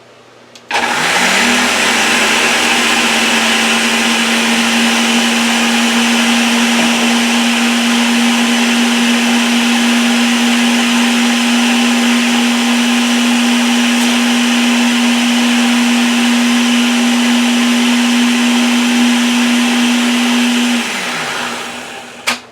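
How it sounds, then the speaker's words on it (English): A loud Ninja blender mixing chocolate mousse whirs continuously for about twenty seconds at a steady high-pitched drone, then winds down and stops, with no talking. "I'm going to hit mix. This is the Ninja. It's a little loud"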